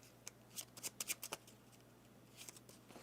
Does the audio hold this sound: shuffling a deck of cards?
yes